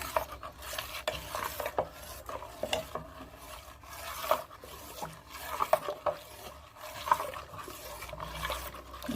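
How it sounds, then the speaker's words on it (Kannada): Neer dosa rice batter mixed with salt is stirred in a vessel, soft scraping and sloshing strokes repeating at close range, fairly quiet with no voices. "ಉಪ್ಪು ಹಾಕಿ ಕಲಿಸಿ ರುಬ್ಬಿದ ತಕ್ಷಣ ನಾವು ದೋಸೆ ಹಾಕ್ಕೋಬೋದು ನೋಡ್ರಿ"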